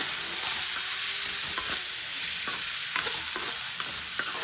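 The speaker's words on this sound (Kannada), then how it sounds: "ಚೆನ್ನಾಗಿ ಮಿಕ್ಸ್ ಮಾಡಿಕೊಂಡು ಇದನ್ನು ಸ್ವಲ್ಪ ಫ್ರೈ ಆಗೋದಕ್ಕೆ ಬಿಟ್ಬಿಡೋಣ" Vegetables and lentils are stirred and fried in a pan for pasta, giving a constant close sizzle broken by repeated scraping clicks of the spoon, with no talking.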